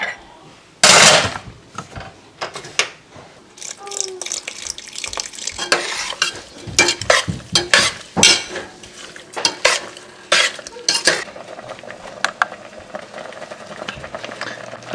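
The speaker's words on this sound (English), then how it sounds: "So I'm just stirring it occasionally, just making sure it's not sticking" Peach butter spiced with nutmeg reduces in a pot on the stove while a spoon stirs it now and then, giving irregular clinks, scrapes and knocks against the pot over a faint simmer.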